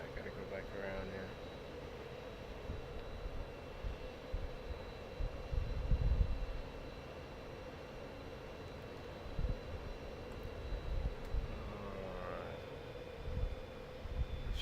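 A spacecraft's engine hums in Star Citizen during a landing go-around, a steady droning roar with a faint high whine. Thumps and rumbles come and go, and a voice talks over it.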